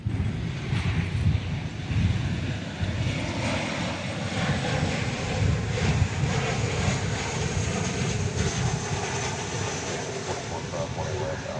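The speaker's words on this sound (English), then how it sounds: "it's an American 737-800 arriving from San Antonio, Texas, flight 603." An American Airlines Boeing 737-800 arrives at DFW Airport, its steady jet engine roar and rushing wind filling the scene at close, loud range without letup, with faint talk mixed in underneath.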